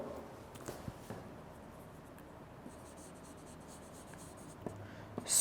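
Marker or chalk writing on a board during a classroom English lecture, a faint continuous scratching with a few soft taps, quiet and close, with no talk over it.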